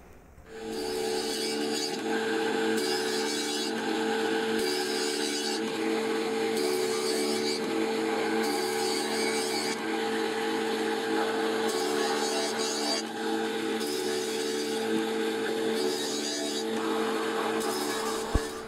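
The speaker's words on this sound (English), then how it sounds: "now that these boards have run through the planer" A planer feeds white oak boards in repeated passes, a steady machine whine and hum with the cutting roar rising and falling as each board runs through, loud and continuous for the whole stretch.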